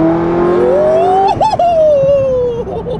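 A 200 mph capable sports car accelerates hard, its engine note climbing steadily in pitch with a brief stutter at the shift before pulling on, loud and close inside the cabin.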